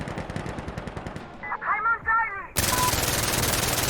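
Rifle hipfire in Insurgency: Sandstorm, a rapid burst of loud automatic gunshots with a few sharp metallic clicks between bursts, and another dense volley at the end.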